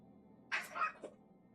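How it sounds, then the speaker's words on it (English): Cats yowl and screech in a brief, loud fight in The Sinking City, two quick outbursts of snarling cries over a low background hum. "Cats are fighting."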